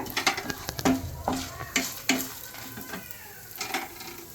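Cumin, fenugreek and asafoetida crackle and sizzle in hot oil, with a spoon clicking and stirring in quick bursts close by.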